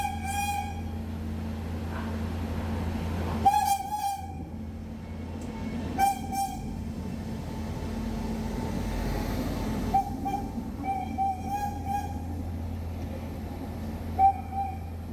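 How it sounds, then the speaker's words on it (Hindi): Locomotive being reversed onto the Indore–Guwahati Express, a steady low rumble of the idling train with several sharp horn toots spaced through it, fairly close. "तो वो था हमारी ट्रेन का लोको रिवर्सल, जो मैंने भी आपको दिखाया"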